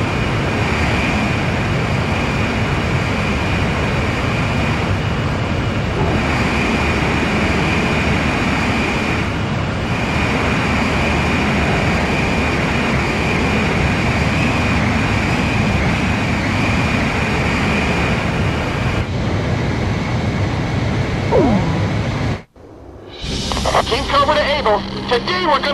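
A fighter jet's engine drones steadily during aerial refueling behind a tanker in the Ace Combat 5 video game, a constant roar under radio voice chatter that cuts off abruptly near the end before other game sounds start.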